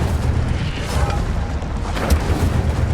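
Incendio fire spells blasting in Hogwarts Legacy, a loud sustained roar of booming bursts with a few sharper cracks rising above the rumble.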